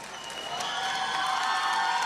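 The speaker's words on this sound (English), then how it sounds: "from all of us, to give a round of applause to K1 Majuba." Crowd applause at a K1 live fight night event, dense steady clapping that swells slightly and fills the whole moment, loud and without speech on top.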